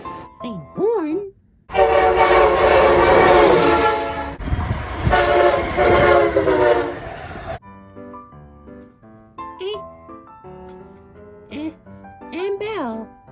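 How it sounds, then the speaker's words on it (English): An Amtrak HHP-8 electric locomotive horn blasts loudly in two long sustained chords, followed by quieter horn tones and a person talking between them. "They have the same engine, same horn."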